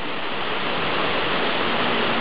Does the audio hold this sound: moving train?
no